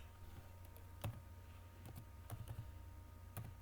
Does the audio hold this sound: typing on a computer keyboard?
yes